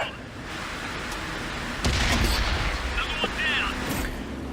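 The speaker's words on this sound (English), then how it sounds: "And finish it off with the next shot." A tank cannon firing in a tank battle video game, a single loud blast about midway with a rumbling tail, over steady game engine noise; a second sharper report follows a moment later.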